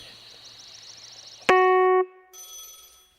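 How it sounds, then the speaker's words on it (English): A phone rings from inside a dome structure in the woods, heard as a sharp electronic tone that sounds once for about half a second over a faint warbling hum and then gives way to a higher, quieter tone. "found the phone. It's ringing inside another one of these dome things."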